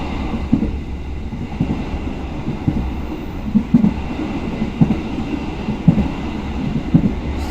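Pasundan economy-class train pulling away from Jombang station in the morning, with a steady low rumble and regular rhythmic wheel knocks at close range, no voices.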